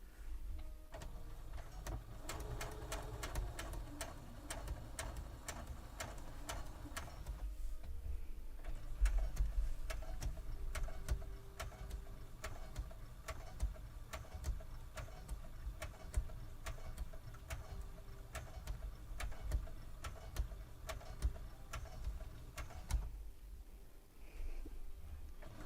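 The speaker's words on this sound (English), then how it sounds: "I'm going to sew on my sewing machine, I'm going to go on a long stitch." Sewing machine running a long stitch on a doll sundress, a steady fast mechanical ticking that continues close and fairly quiet, briefly pausing twice.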